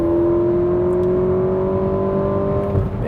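A steady SUV engine drone holds a rising pitch as the vehicle accelerates, loud and close from inside the cabin, easing off near the end.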